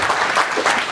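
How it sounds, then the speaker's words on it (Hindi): A short burst of loud clapping from the crowd at a university poetry gathering, dense and continuous for about a second. "एक बार जोरदार तालियां हो जाकर"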